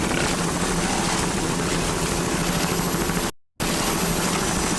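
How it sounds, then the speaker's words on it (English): Offshore racing powerboat driven by a single 500-horsepower MerCruiser inboard with a MerCruiser drive, at the 1998 Key West world championship. A loud, constant engine roar is broken once by a brief dropout. "powered by one 500-horsepower Merc Cruiser inboard with a Merc Cruiser drive"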